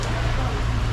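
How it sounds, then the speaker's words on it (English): Rain falls steadily at Zakka Campsite in the Cameron Highlands, a dense, even hiss of drops over a low rumble, with no break across the brief moment. "But look at that, raining now."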